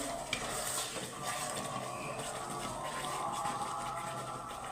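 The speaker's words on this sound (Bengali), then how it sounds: "নাড়তে থাকবো" Mung dal filling being stirred in a pan while it cooks, a steady scraping and shuffling with a soft sizzle underneath, continuous and close with no voices.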